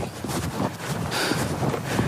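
Steady, loud wind buffeting the microphone at an outdoor model rocket launch field, a continuous roaring rush with no other clear sounds.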